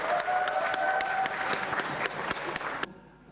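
Applause from a lecture audience greeting a guest speaker, brisk scattered clapping with sharp individual claps standing out, fairly quiet and ending abruptly near the close.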